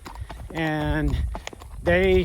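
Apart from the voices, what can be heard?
horse hooves clip-clopping while being ridden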